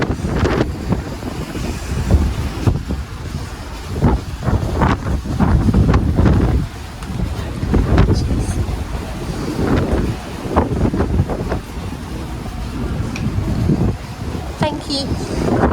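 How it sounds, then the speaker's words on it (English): Strong wind buffets the microphone on the open deck of the P&O Iona cruise ship at sea, loud gusting roar rising and falling throughout with waves and spray underneath. "as you can see it's windy"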